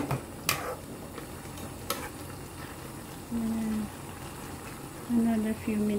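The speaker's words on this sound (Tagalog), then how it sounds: "Durugin natin ang kamatis para lalabas ang asim niya." Tomatoes crushed and stirred in a pan for paksiw na galunggong, with soft scraping and a gentle sizzle broken by a few sharp utensil clacks, close by, under a few short spoken phrases.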